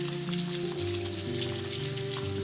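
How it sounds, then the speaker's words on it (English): Rain falling on a morning in Door County, a steady soft patter spread evenly across the whole stretch, with a low sustained tonal hum running underneath. "Rain's pretty too."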